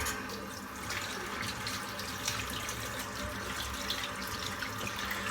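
Tap water runs in a steady, moderately loud stream into a sink while shaving soap is rinsed out, with no pauses or talking.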